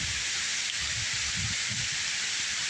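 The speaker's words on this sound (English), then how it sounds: "It is freaking pouring the rain." Heavy rain pouring during a windy thunderstorm, seen from a front porch beside a field and woods, a dense steady hiss with low rumbling gusts underneath.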